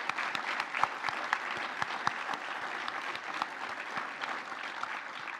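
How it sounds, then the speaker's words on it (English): A room full of guests claps steadily throughout at an alumni awards banquet honoring recipients, a dense, sustained round of applause with a few sharper individual claps standing out. "Can we give a round of applause one more time for our wonderful recipients?"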